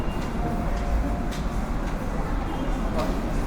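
A Japanese-designed MRT metro train runs through Jakarta, giving a steady low rumble of the carriage in motion with a few faint clicks and rattles and no one speaking.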